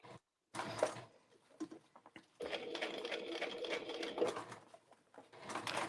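A sewing machine stitches an emoji circle bag with seam about 6 mm in, running in a brief burst, pausing, then in a longer steady whirring stretch, close and clear, with faint light taps between runs.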